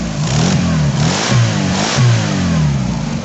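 A Chevy S10 pickup truck engine, newly fired up again during a build, runs loud and close, rising and falling through repeated revs over a steady rumbling idle.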